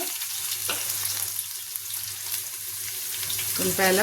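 Sliced onions with mustard seeds and cumin frying in hot oil make a steady sizzle, with occasional stirring and a louder crackling burst near the end.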